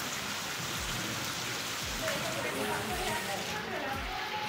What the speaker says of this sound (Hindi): बहुत तेज बारिश हो थे बिजली चमक थे।